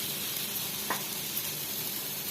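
Curry leaves and chopped onion sizzle in hot oil for a chicken roast, a close, steady hiss with a brief crackle partway through.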